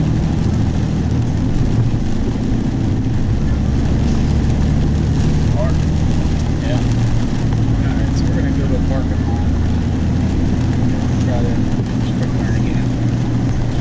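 A truck with a rebuilt 68RFE transmission drives and accelerates, giving a continuous loud cabin drone of engine and road noise throughout, with someone talking over it.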